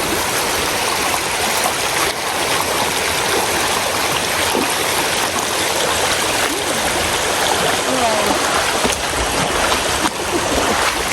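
Rushing water of Napuru waterfall near Arusha, Tanzania, a steady broadband roar that holds close and loud throughout without breaks.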